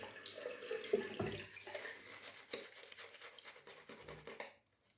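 Water is added a few drops at a time into a bowl of shaving soap, giving quiet, close trickles and drips in soft irregular bursts.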